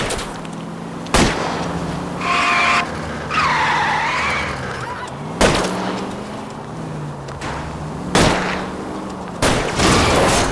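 Tyres skidding during a car chase in L.A. Noire, long screeching squeals between sharp gunshots, with a car engine droning underneath; several loud cracks punctuate the skids at irregular intervals.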